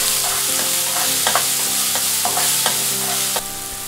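Fried garlic being stirred with ground pepper and salt in a hot pan, a steady sizzle with repeated scraping strokes of the utensil at close range, no voices.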